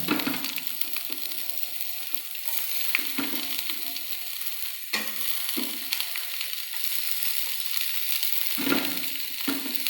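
Chopped garlic and onion sizzle in hot oil in a pan for a boiled chickpea dish, a steady crackling fry broken by several scraping stirs, close and continuous with no talking.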